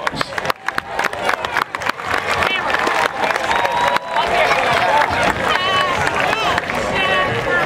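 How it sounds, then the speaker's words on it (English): At an outdoor marching band festival, a crowd applauds band boosters. Dense, steady clapping mixed with cheers swells and holds for several seconds, with voices in the crowd throughout. "let's give them a round of applause"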